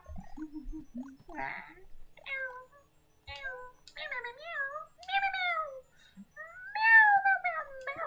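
A cat gives a series of close, clear meows, some drawn out and wavering, separated by short quiet pauses and growing louder toward the end.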